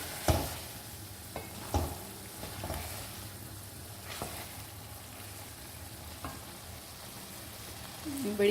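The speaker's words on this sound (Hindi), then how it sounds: "बड़ी तेज़ी के साथ ये हमारे अंडे जो फेंट के डाले हैं वो पक रहे हैं।" Beaten eggs cooking with potatoes in a pan over a high flame, sizzling and frying softly and continuously, with occasional louder scrapes and clinks of stirring.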